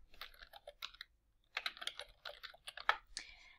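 A search is typed on a computer keyboard in quick bursts of close, crisp key clicks, with a short pause midway before the tapping resumes.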